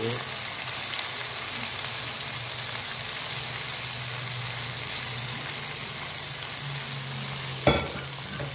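Snakehead fish frying in a pan of oil for Betawi-style pucung: a steady, close crackling sizzle that continues throughout, with a single sharp clunk near the end.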